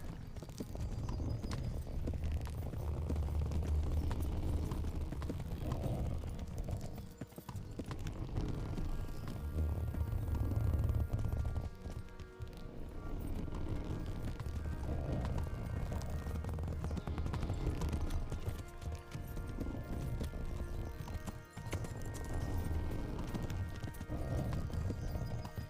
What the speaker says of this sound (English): Can I even make it in with a horse?